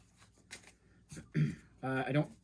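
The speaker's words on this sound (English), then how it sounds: "I'm just gonna shuffle my decks" A deck of cards shuffled during a Marvel Legendary deck-building game, with quick riffling bursts alongside a man's speech, all close and fairly quiet.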